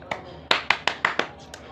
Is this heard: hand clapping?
yes